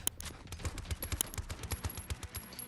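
A new gun in the mobile shooter Combat Master fires in a fast, light rattling stream of small pops, fairly quiet and thin, with an evenly spaced rhythm throughout.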